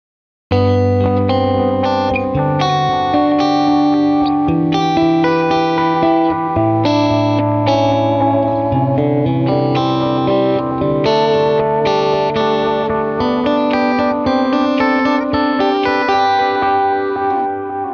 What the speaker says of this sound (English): I'm always playing through a Marshall JVM and I'm using the TimeFactor in the loop